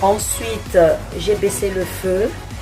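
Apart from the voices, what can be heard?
No everyday noises stand out.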